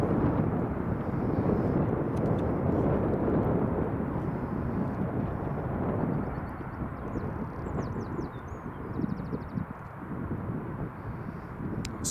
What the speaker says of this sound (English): now we've got the EasyJet just lining up there